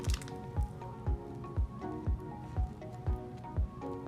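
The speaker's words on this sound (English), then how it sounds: "You're going to pat the foam all the way around your donor area." A sponge patting shampoo foam onto the donor area of a scalp after an FUE hair transplant: soft, wet squishing dabs in a steady rhythm about twice a second, quiet and close.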